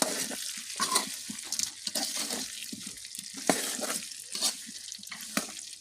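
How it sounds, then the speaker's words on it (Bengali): Olives are stirred in a frying pan while making pickle, with a soft sizzle and repeated scraping strokes of the spoon in a quick, uneven rhythm close by. "আমরা এখন সব জলপাইগুলো দিয়ে দিয়েছি একটু নেড়ে নিচ্ছি"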